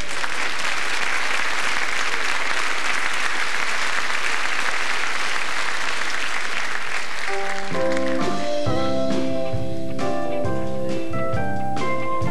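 A theatre audience claps at the start of a 1984–85 revue, dense sustained applause filling the room for several seconds, then fading as a band strikes up bright music over the last part.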